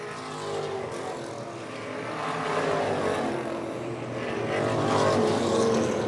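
Modified stock cars race around an oval track in the closing laps, with a loud, steady engine roar that builds as the close-running pack sweeps past.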